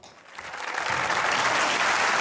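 A studio audience at a comedy talk show bursts into applause, rising quickly from silence into loud, dense clapping that holds strong to the end.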